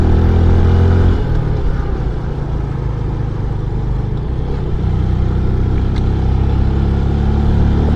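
A Yamaha PG-1 motorcycle on a year-end mountain ride toward Baguio and Atok, its engine droning steadily and close throughout with a broad continuous rumble, no speech over it.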